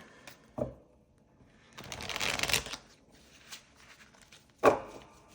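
A deck of tarot cards shuffled by hand: a short riffle, then a longer run of flicking and rustling, and a final sharp slap of the cards, close up with no talk.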